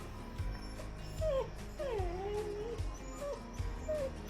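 A Husky whimpers and lets out high, sliding yips and whines in several short bursts, fairly close but quiet in the recording, with soft background noise between cries.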